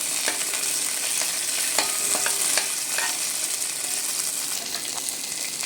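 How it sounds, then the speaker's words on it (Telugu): Green chilies and curry leaves fry in a pan for coconut rice, making a steady close sizzle with light scraping and clinking from stirring throughout. "ఇలా ఫ్రై అయ్యాక పచ్చిమిర్చి అండ్ కరివేపాకు వేసుకుని కొంచెం ఫ్రై చేయాలి"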